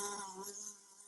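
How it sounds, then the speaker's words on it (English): A housefly buzzes steadily at close range with a thin, wavering drone, fairly quiet and heard on its own for about a second with no speech. "I hate the fly sound."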